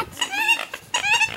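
Ducks squabble near water, letting out two quick bursts of loud, harsh squawking calls at close range.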